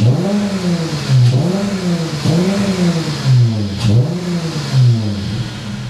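A wrecked 2018 Dodge Challenger's engine revs up and down in a repeating cycle, rising and falling about four times, loud and close, with no speech.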